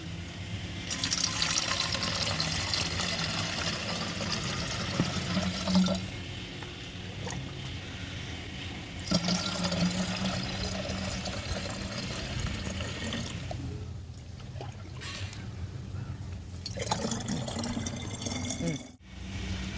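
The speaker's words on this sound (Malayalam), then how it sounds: "ഇതിലേക്ക് വെള്ളം ഒഴിച്ചു കൊടുക്കാം" Water poured from a two-litre container into a vessel for mixing a fish amino acid garden fertiliser, a steady broadband splashing and filling sound running throughout, loud and close, with faint background voices and brief handling pauses.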